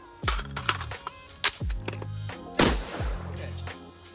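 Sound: AR rifle gunshots

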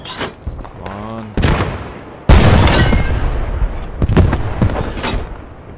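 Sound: PaK 38 anti-tank gun firing in video game Post Scriptum

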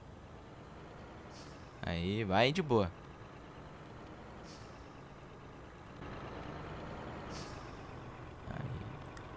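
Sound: truck accelerating to overtake a car in video game Grand Truck Simulator

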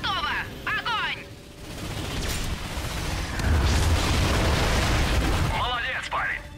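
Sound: ion cannon firing in Ratchet & Clank video game

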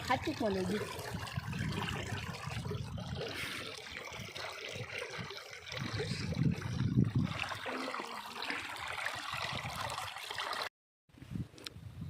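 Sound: irrigation water running in a farm field

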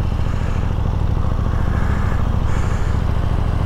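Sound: KTM 890 Duke GP motorcycle engine running

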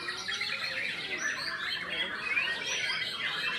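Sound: caged bird chirping

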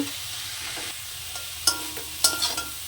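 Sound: stirring red amaranth greens cooking in a pan

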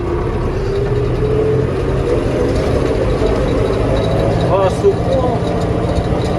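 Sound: tractor engine running under load

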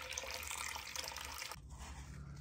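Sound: pouring 300 grams of water into sourdough bowl

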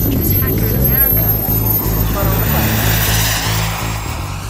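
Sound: jet turbine model airplane

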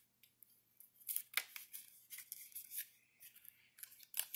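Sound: tape applied to close a gap on a paper puff mobile

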